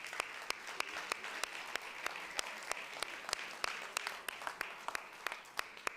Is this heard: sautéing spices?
no